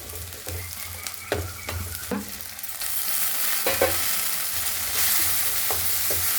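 Mustard seeds, cumin, onion, chilli and asafoetida tempering in hot oil: a close sizzle punctuated by sharp spatula scrapes and taps early on, then a fuller, louder steady hiss as the spices crackle, with no speech.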